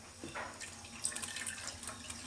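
Vinegar poured into a bowl for Filipino papaya pickle (atsara), a quiet, steady liquid trickle with soft splashy bursts, close and alone, with no talking.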